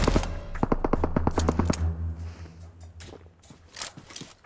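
Gunfire sounds in the battle royale shooter PUBG Mobile. A rapid burst of automatic shots opens the clip, then scattered single shots ring out at a distance.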